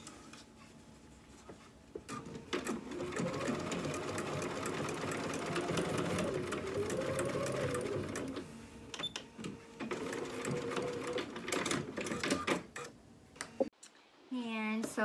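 Sewing machine stitching collars onto a dress bodice, a close mechanical whirring chatter running in bursts with short pauses between seams.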